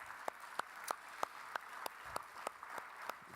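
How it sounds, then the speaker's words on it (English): Sparse, slow, evenly spaced claps at an industry breakfast event honouring sponsors, quiet and distant, a handful of distinct hand claps rather than full applause. "So please, once again, join me in applause, recognizing their support for this event."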